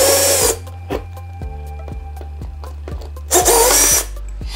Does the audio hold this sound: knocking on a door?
no